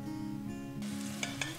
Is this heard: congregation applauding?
no